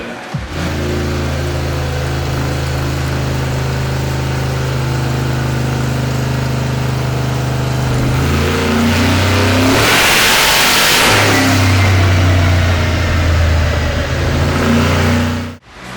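Twin-turbo VW Bug engine revving hard on a dyno, a loud sustained pull rising in pitch to around 6,100 rpm, then a brief blast of rushing air before the engine note returns and cuts off abruptly.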